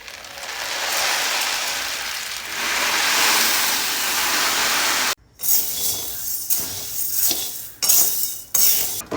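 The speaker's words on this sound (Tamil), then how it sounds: "இப்போ இரும்பு கடாயில் போட்டு நல்லா வறுத்துக்கலாம்" Black urad dal is dry-roasted in an iron wok. A loud sizzling hiss gives way to the gritty rattle and scrape of the lentils being stirred against the metal in uneven strokes.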